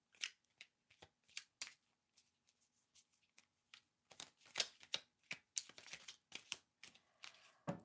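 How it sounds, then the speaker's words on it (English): Crisp riffling and snapping bursts of a deck of cards being shuffled, repeated in quick clusters with brief pauses, close and fairly quiet. "I'll just sit here and shuffle all night."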